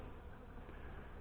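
Calm honey bees droning around a hive, a soft, continuous buzzing hum heard up close with no voices.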